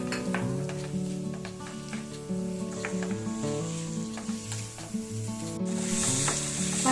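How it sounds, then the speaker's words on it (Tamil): Tomatoes, ginger and garlic sauté in a pan for paneer kofta, a continuous loud sizzle with spatula scrapes and stirring clatter throughout, with no one speaking. "பொடியா நறுக்கி வச்சிருக்க 3 தக்காளி இது கூட சேர்த்துட்டு நல்லா வதக்கிக்கலாம்"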